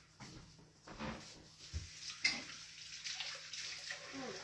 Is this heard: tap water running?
yes